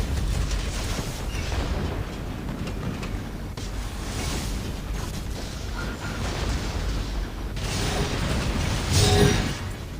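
Howitzer artillery bombardment in the video game Warpath: continuous heavy, rumbling booms and blasts overlap into a loud, dense roar of distant and nearer shelling that swells toward the end.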